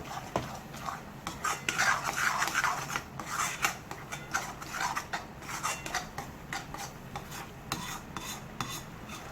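Ground masala paste for paneer tikka masala gravy stirred in a pan, steady scraping and rubbing of a spoon against metal with light clinks, close and continuous, no talking.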